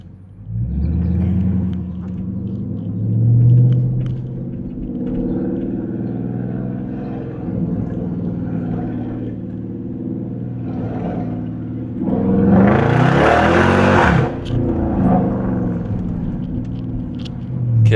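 An RT car drives with the engine rumbling steadily as it downshifts, then it revs hard in a louder, rising pull near the end; the sound is close and continuous, with no voices.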